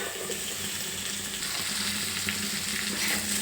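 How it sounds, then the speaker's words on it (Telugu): Potato pieces fry with onions and turmeric in a pan, giving a steady, close sizzle with watery crackle and light stirring and no talk throughout. "ఆలుగడ్డ ముక్కలు వేసుకున్నాను."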